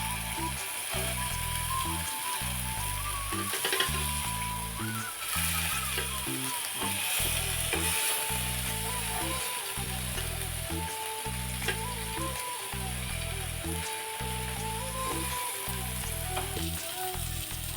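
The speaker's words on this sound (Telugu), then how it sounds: "రెండు వైపు కాల్చుకుందాం." Fish sizzles steadily as it fries in a pan, a continuous crackling hiss under a loud rhythmic mechanical chugging in the background, with an occasional faint clink.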